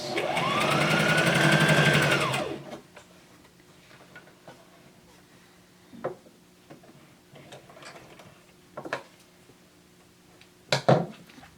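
A sewing machine back stitches elastic onto the bottom edge of a cloth face mask: a loud, steady motor whir for about two seconds, then near quiet with a few soft, scattered clicks.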